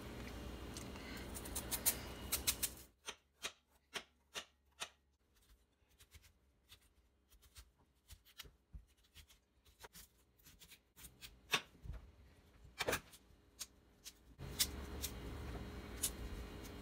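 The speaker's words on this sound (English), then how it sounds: "So I'm just gonna peel this." Short scraping strokes repeat at an uneven pace, close and quiet, like a peeler stripping a vegetable, set between stretches of louder background hum.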